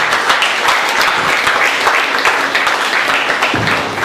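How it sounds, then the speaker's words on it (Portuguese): Loud, close applause fills a church as the congregation claps steadily and densely, an unbroken wash of hands throughout. "E a salva de palmas para Jesus."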